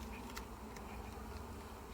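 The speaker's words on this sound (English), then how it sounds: "the hum noise has certainly quietened down" Honeybees hum inside an opened hive during a quick inspection: a soft, steady, low drone with no voices, faint but continuous throughout.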